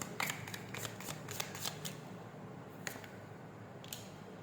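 Tarot cards shuffled by hand for a Hindi reading, a run of quick crisp riffling flicks in the first two seconds followed by a few isolated card snaps, close and fairly quiet with no talking.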